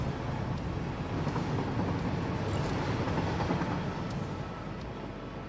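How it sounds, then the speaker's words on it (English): Trains rumbling along rails in the factory-building game Satisfactory, a steady loud rolling roar with a faint metallic screech partway through, no talk. "Trains are awesome, man. There's another one."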